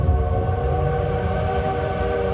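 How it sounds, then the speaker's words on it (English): A coal-fired steam locomotive runs at track speed with its whistle sounding, a loud sustained tonal blast layered over a heavy rumbling drone, close and continuous. "Coal-fired steam locomotive operating,"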